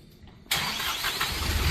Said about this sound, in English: Here's your engine coming to life.